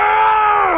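A character in the video game Bannerlord screams, one loud, sustained, strained yell held steadily at close range for under a second, with no other sound.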